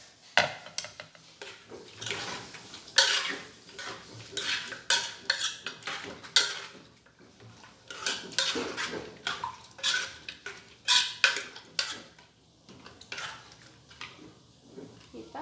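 A spoon stirring pork stew in a metal cooking pot, repeated scraping and clinking strokes in an uneven rhythm, close and moderately loud, with soft bubbling underneath.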